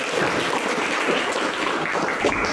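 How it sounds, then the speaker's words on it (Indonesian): Applause from a class of students in a classroom, a steady dense wash of many hands clapping that continues without break, fairly loud and with no talk over it. "Berikan aplaus yang meriah."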